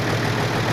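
An FNM 180 truck engine, started after three years parked, idles with a straight exhaust: a loud, close, steady low rumble with a rough, even pulse and no pauses.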